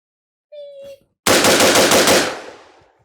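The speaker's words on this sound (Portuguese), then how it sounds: "6 disparos o mais rápido que eu conseguir. Bill Drill." Six rapid 5.56 rifle shots fired as a Bill Drill, a dense burst of cracks in quick succession that tails off into echo, preceded by a short electronic beep from a shot timer.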